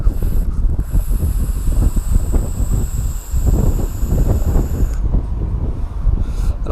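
Steady wind buffets the microphone, a constant low rumbling roar with no talking.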